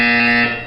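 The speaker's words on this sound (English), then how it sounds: "When you hear the buzzer, look down at the floor." A buzzer in the video game Portal 2 sounds once, a loud, steady harsh electronic tone lasting under a second before it fades.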